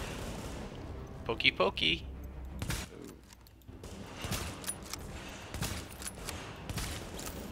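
Video-game gunfire in a shooter battle at Grand Central Station, with quick bursts of shots mixed with clatter and background action while a player talks over it.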